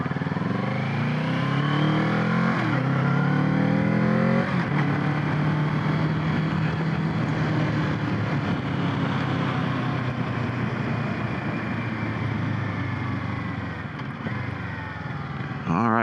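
A Kawasaki Z650 motorcycle engine pulls hard while being ridden. The revs climb through the gears in loud, close bursts, then settle into a steady drone with wind noise.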